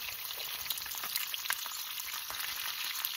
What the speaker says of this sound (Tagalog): Kaya pag nagluluto ako ng tuyo dito sa labas.